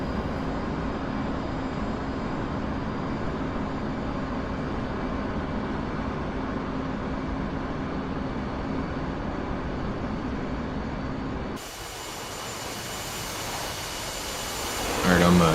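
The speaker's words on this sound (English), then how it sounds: "Alright, I'm taxiing off the carrier now." A jet aircraft taxis off a carrier deck in the DCS flight simulator, its engine a steady, loud, continuous whine and rumble that shifts in tone near the end, with a voice talking over it.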